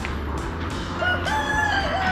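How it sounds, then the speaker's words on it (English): A rooster crows at a distance with a rising, drawn-out call, over a steady outdoor hum and scattered clucking from nearby chickens, in the gardens of the Palácio de Cristal in Porto, Portugal. "There's chickens absolutely everywhere."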